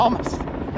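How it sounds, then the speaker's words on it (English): A helicopter passing overhead at a crowded E3 2013 show in Los Angeles, its rotor drone and whine swelling and fading briefly behind a speaking voice. "excuse the helicopter"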